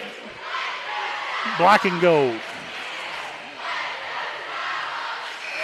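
Crowd noise in a packed gym at a boys high school basketball game during a timeout, a steady roar of voices with a loud shout of chanting and an announcer talking over it.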